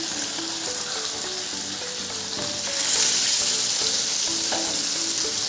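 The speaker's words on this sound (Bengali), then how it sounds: "এদিকে যে এখন মাছ ভাজি করছি" Fish frying in a pan beside a pot of rice, a continuous loud sizzle and crackle that swells partway through, with a few faint clinks in the background.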